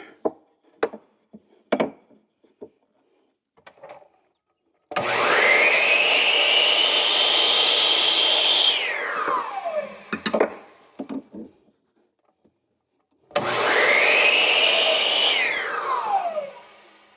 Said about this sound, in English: Take this over to the miter saw and trim the ends off